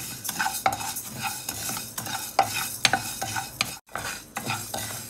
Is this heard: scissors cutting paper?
no